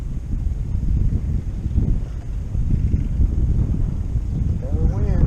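Strong wind buffeting the microphone on open water while fishing from a boat over brush piles, a steady low rumbling roar throughout, with a voice briefly heard near the end.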